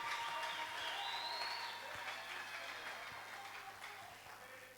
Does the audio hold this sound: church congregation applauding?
yes